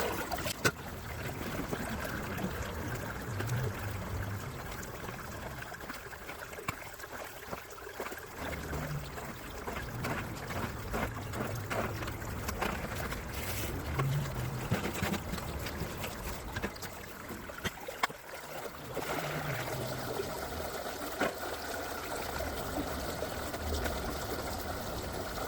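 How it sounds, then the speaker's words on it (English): Water runs steadily through a gold sluice, washing fine clay, mud and leaves along it, making a continuous low rushing and trickling close by at a modest level. "A lot of mud in there, a lot of clay in there. Let's sluice this out."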